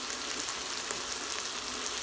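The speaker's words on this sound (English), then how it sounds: "Guys, it's sizzling up really well." Onions sizzling in an Instant Pot on sauté, a steady, close crackling hiss that continues evenly without pause or talk.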